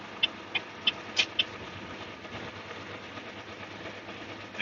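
A truck engine with valve lash runs at idle as a steady low drone, while a handful of sharp, faint clicks tick irregularly over it, close by.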